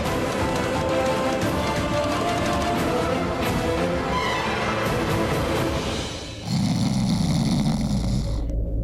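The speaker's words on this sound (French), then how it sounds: "arrête de ronfler" A man snores loudly and continuously at night in a bedroom, rough rasping breaths filling the whole stretch, shifting to a harsher, more nasal tone near the end.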